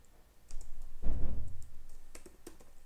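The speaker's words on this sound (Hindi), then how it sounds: "यहाँ पे लिखता हूँ दिस डॉट स्टेट और यहाँ पे भी लेता हूँ एक नेम, और नेम बेसिकली लिखता हूँ लेट्स से अनिल" Typing code on a computer keyboard, a quick run of clicky keystrokes with one heavier thump in the middle, close and moderately loud, no speech over it.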